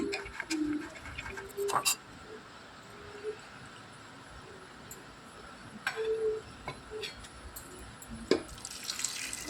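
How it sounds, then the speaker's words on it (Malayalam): Water is poured into a pan of curry with green peas and potatoes, giving faint splashes and drips against a quiet kitchen background, with someone speaking intermittently. "ആവശ്യത്തിന് വെള്ളം ചേർത്ത് കൊടുക്കുക ഗ്രീൻ പീസും ഉരുളക്കിഴങ്ങും വേവാൻ ആവശ്യത്തിന് വെള്ളം ചേർത്ത് നന്നായിട്ട് മിക്സ് ചെയ്തെടുക്കുക"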